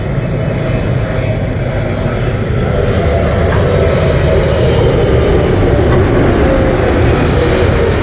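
An Air India Boeing 777 landing at Heathrow, its loud, close, continuous jet engine roar filling the whole stretch with a dense rumble that shifts in tone as the aircraft passes overhead.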